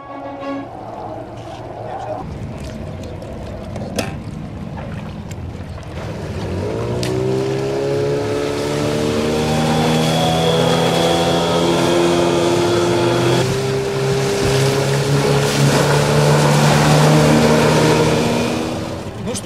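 Outboard motorboats with Suzuki DT15A, Suzuki DT9.9A and Yamaha 9.9FMHS motors roar past together, engine pitch climbing as they speed up, loud and sustained with water rushing beneath.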